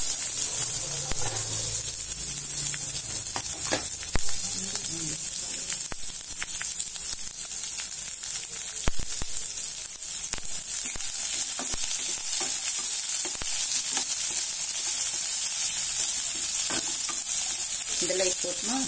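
Onions sautéed in a pan for ragi masala neer urundai, with a loud, continuous bright sizzle, a spatula scraping and stirring throughout, and an occasional tap.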